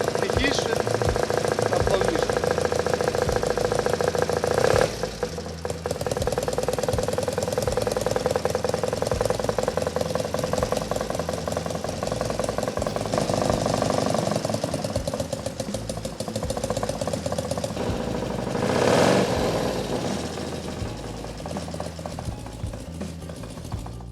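A modernised Soviet-era motorcycle engine, in a project alongside a 1969 K-750M, idles steadily while warming up, a continuous close mid-pitched rumble with a faint knocking pulse running under intermittent talk.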